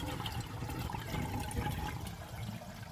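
Pond filter water gushing and splashing steadily as it pumps back into a garden pond, a continuous close rush of flowing water with bubbling throughout.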